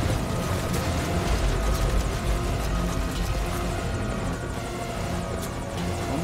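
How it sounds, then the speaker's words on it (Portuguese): A helicopter's rotor in Metal Gear Solid V: Ground Zeroes drones continuously, loud and steady, with a low thumping roar and some faint background noise. "Só tô escutando o helicóptero."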